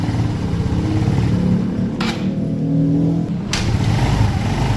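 A Yamaha Mio Soul scooter engine bored up to 130cc revs loudly and up close, holding a buzzing drone with brief dips between throttle blips.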